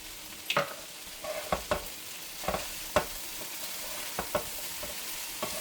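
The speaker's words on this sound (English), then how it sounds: "Let's go ahead and throw in our garlic." Chopped garlic cloves hit a hot skillet of softening carrots and onions, giving a bright sizzle and frying hiss punctuated by several scraping stirs of a utensil against the pan, close and without speech.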